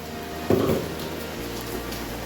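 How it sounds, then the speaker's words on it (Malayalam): Pulissery curry bubbling at a low boil in a pot, a soft continuous fizz with a brief clatter near the start and no voices. "അപ്പോൾ നന്നായിട്ട് തിളയ്ക്കുന്നുണ്ട്"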